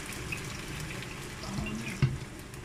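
White wine poured into a pan of pork cheeks to deglaze them, a steady close splashing and trickling flow with faint sizzle beneath, no talking.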